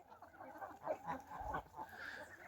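A young goose on a home farm gives a few soft, faint honking calls at close range against a quiet yard background.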